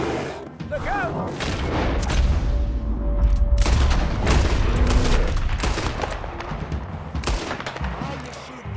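Gunfire in the Red Dead Redemption video game, with a rapid series of loud, sharp shots cracking out in quick succession over a busy game soundtrack, with voices around it.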